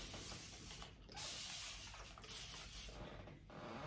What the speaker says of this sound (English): we're gonna put some moisture on here with my spray bottle